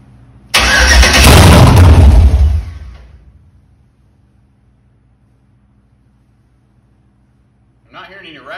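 A Gen IV LS V8 swapped into a G20 Chevy van cranks and fires on a first start, a loud burst lasting about two seconds before dying away, with faint voices near the end.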